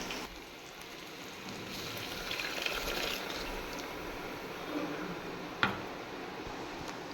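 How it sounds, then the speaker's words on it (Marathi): A pot of amti, a Marathi curry made with potatoes and ground peanuts, boiling on the stove. Soft, steady bubbling and crackling stays faint throughout, with one brief louder knock near the end. "तर ही आमटी उकळून घेते मी थोडंसं अजून वाढवून घेते"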